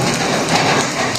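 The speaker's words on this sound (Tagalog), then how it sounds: "habang umuulan yung panahon" Heavy rain pouring during a storm outdoors beside a cooking spot, a dense continuous hiss of drops hitting surfaces, loud and close with no talk.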